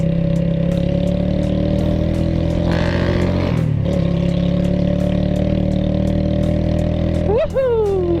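Loncin Terminator 200 single-cylinder motorcycle with dual exhaust, its engine running steadily and close, with a brief dip in pitch partway through and a sharp rising rev near the end, under someone talking.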